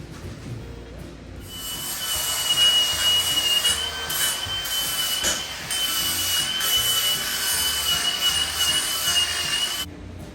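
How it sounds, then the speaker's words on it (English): A chop saw cuts through metal with a steady, loud grinding whine and a high ringing tone. It runs for about eight seconds close up, then stops abruptly, and no one speaks. "Now I can choppity chop this in the chop saw here."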